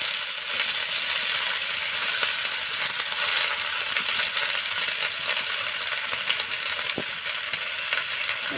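Chopped vegetables frying in a pan for momo filling, a steady loud sizzle with occasional stirring scrapes and no talk.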